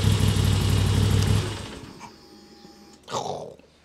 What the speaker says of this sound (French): Quand j'éteins le moteur